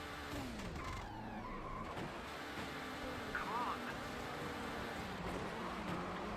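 A Group B Peugeot rally car in Rallisport Challenge rallycross brakes and spins, its engine droning steadily throughout with a brief tire squeal partway through and a voice faintly in the background.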